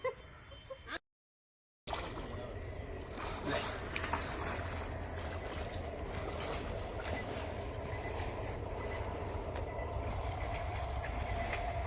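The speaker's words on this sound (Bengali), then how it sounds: "এখান থেকে ট্রেন গেলে দেখা যায়" A long, steady rumble of a passing train in rural Sundarbans, Bengal, loud and continuous after a brief dropout near the start, with clattering and rushing noise throughout.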